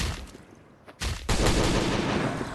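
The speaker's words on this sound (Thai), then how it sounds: "ยิงแทบไม่เข้าเลยว่ะทุกคน" Gunfire in the survival video game Last Day on Earth: Survival, loud sustained rapid shots after a brief pause, dense and continuous with no talking.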